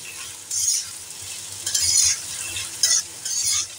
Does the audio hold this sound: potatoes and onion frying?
yes